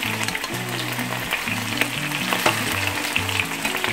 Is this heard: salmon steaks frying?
yes